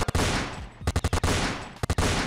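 Rapid automatic fire from a minigun in a low-budget Fortnite knockoff shooter game, loud dense bursts broken by brief pauses and a few separate sharp shots.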